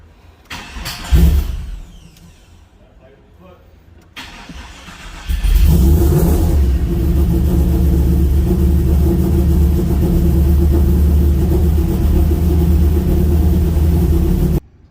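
An older car engine with a newly replaced starter cranks in a few short bursts, then catches and settles into a loud, steady idle that holds to the end.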